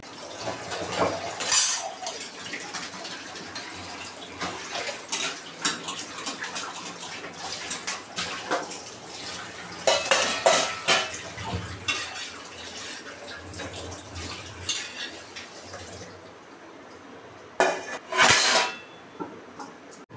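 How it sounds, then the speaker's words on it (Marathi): A dish-rack basket is scrubbed and rinsed in a kitchen early on a cold morning, with running water, plastic rubbing and clattering knocks of dishes and utensils close by. "हे भांडे ठेवण्याचं जे बास्केट आहे ना याला पण मी स्वच्छ घासून घेतलं"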